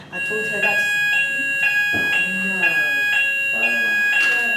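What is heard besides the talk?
fire alarm test sounding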